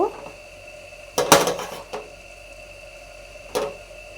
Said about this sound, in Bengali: এবার আমি একটু চাপা লাগিয়ে দেব